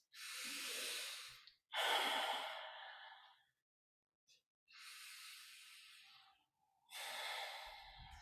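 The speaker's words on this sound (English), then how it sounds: "let's take a moment to drop back in with 3 slightly deeper breaths" Three slow, deep breaths during a qigong practice, each a long airy inhale and exhale with soft hissing texture, separated by short silent pauses, close and alone with no talking.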